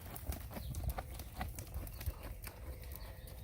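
Arabian horse loping around an arena, soft rhythmic hoofbeats thudding on the footing in a steady three-beat gait, fairly close and muted, with no voices.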